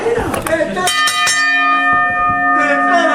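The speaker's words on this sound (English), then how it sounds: "Ring the bell!" A wrestling ring bell rings out loudly several times in quick succession at a professional wrestling event, its metallic tone ringing on while voices carry in the background.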